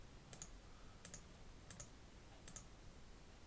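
Faint computer mouse clicks tap out while someone plays a Tap-A-Mole game app, coming as five or six quick single or double clicks spaced about a second apart against a quiet background hiss.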